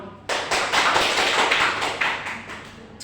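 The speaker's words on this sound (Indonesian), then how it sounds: "tepuk tangan buat kita semua" Classroom of students clapping together, a sudden burst of close, bright applause that starts sharply and continues steadily for a few seconds.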